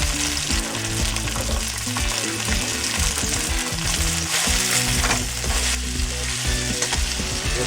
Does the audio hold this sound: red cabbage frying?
yes